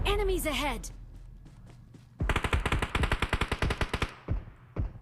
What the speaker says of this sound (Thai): บ้านยิงกันละรัวเลย